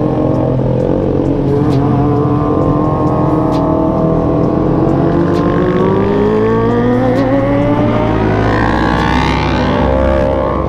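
Heavy trucks on a road pass close by with loud, steady engine drone and rising and falling harmonic tones, likely heard from a touring Yamaha Jupiter MX motorbike ride near Bandung, continuous traffic noise throughout.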